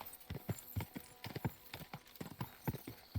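Horse hooves gallop in the Kingdom Come Deliverance 2 video game, a quick, rhythmic run of clip-clop beats at moderate distance, fairly quiet and continuous.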